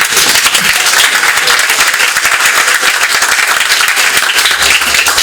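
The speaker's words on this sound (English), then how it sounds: "Can I get an applause?" An audience at an evening campaign event in support of Eric Adams for the 2021 New York general election bursts into steady, loud applause that fills the room continuously, with no talking over it.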